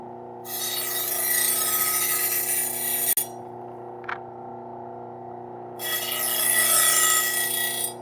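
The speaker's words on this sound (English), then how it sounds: "This is a 600 grit Scotch-Brite wheel, Oscar, and then a leather wheel over here." Blade pressed against a spinning 600-grit Scotch-Brite wheel for sharpening scissors or knives, a bright hissing abrasive rasp over a steady motor hum, in two bursts separated by a few seconds of just the running motor, no speech.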